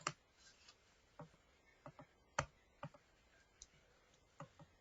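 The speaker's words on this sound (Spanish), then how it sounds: "dirigimos nuestro mouse y le damos un pequeño clic" Computer mouse clicking, a series of sharp, isolated clicks spaced irregularly, close and quiet, alone with no talk.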